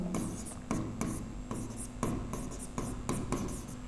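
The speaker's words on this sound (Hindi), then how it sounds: "चलिए यहीं पे मैं लिख रहा हूं" Chalk or a marker writes across a classroom board in quick rhythmic strokes, each scratchy burst separated by brief pauses and repeating steadily at close range for several seconds.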